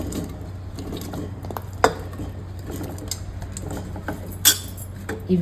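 Chopped, washed pieces of elephant yam and Malabar spinach tipped into a metal pressure cooker, giving scattered close clinks, knocks and soft thuds at irregular intervals over a low hum, with no talking.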